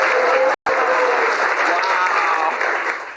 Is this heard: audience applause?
yes